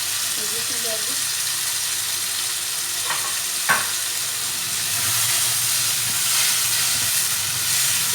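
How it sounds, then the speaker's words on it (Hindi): Tomatoes and green chilies for baingan bharta fry in a pan with a steady sizzling hiss, with a couple of sharp scraping stirs near the middle and a fuller sizzle later; no talking. "इसको थोड़ा सा हम भूनेंगे"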